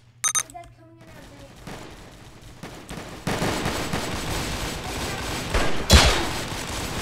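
Gunfire in a Roblox shooter game, sharp cracks early then a dense sustained burst of shots through the second half with a loud hit near the end, while a voice talks over it.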